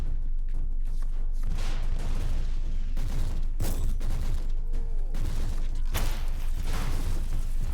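Autogun fire in the Warhammer 40k Inquisitor video game rattles in bursts, with loud repeated shots and booming impacts continuing throughout.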